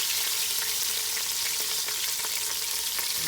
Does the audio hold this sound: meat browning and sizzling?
yes